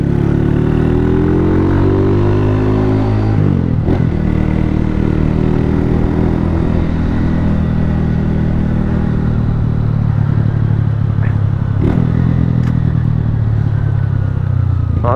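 A small motorcycle ridden without mirrors, its engine droning loudly and steadily close by with shifting pitch, a gear change dip and wind rush through the ride, no talking.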